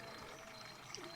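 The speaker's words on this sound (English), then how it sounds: "Like it's flowing really nicely." Water from a newly found spring beside a rural cabin flows steadily with a soft, continuous trickling and gurgling, near and fairly quiet, with no talk over it.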